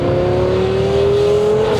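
A twin-turbo Lamborghini Gallardo tuned to 1200 horsepower accelerates hard, its engine note climbing steadily in a loud, close, continuous roar with no speech.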